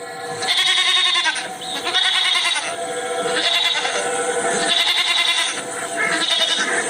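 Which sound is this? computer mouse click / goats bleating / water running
goats bleating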